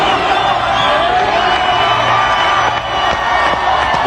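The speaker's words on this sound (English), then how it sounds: "Everybody's screaming right now." A dense crowd roars and screams continuously, loud and close, with scattered whoops and cheers rising over the sustained noise.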